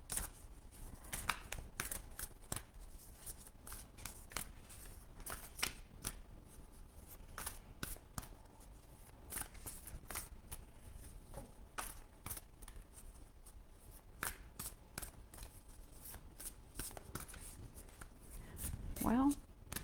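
Oracle card decks are shuffled close by, a run of quick, crisp riffling flicks repeated throughout at a low level, with people talking over them.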